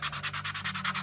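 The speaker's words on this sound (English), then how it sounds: "I got a little sanding block here." A small sanding block rubs back and forth on a snowmachine part, about ten rhythmic, close strokes with a steady low hum underneath and no talking.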